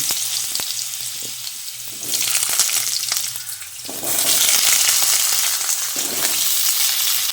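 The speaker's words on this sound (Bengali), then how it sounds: "তেল ভালোভাবে গরম হয়ে এলে এবার এই কেটে রাখা আলুগুলো তেলের মধ্যে দিয়ে দিচ্ছি" Cut potatoes dropped into hot mustard oil in a wok, a loud bright sizzle that surges as pieces hit the oil and swells again midway, with occasional stirring clatter.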